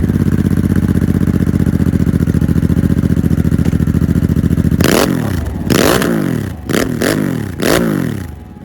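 A Harley-Davidson Sportster S converted into a cafe racer idles with a loud, lumpy rumble close by, then gives four or five sharp throttle blips that snarl up and drop back quickly.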